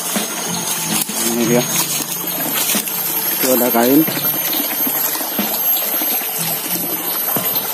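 A small forest stream flows steadily beside a bird-trapping spot, a continuous loud trickling and gushing of water under a man's speech in Indonesian, with a few brief bird-like chirps.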